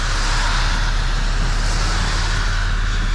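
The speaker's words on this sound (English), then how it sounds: "You can hear how fast people are driving" Steady, loud road roar of cars and traffic passing at normal speed, heard from inside a moving car with continuous tire and engine rumble and no talking.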